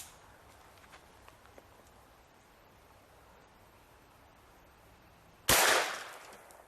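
A single loud, sharp shot from a Henry Big Boy Steel .44 Magnum rifle with a 20-inch barrel, fired at a solid steel lock. It comes after several seconds of quiet and decays quickly.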